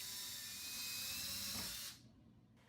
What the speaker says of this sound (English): Drill 1/8 inch pilot holes at all locations.